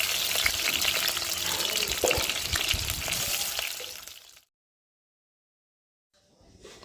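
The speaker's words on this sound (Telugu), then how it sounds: "ఉల్లిపాయ పచ్చిమిర్చి అయితే వేసాను కదండి ఇంకా అవైతే బాగా వేగేంత వరకు వేయించేసుకొని" Onion and green chilli fry in hot oil in a pan with a loud, steady crackling sizzle and occasional stirring knocks. The sound cuts off into silence for about two seconds, then a faint sizzle returns.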